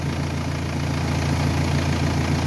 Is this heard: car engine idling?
yes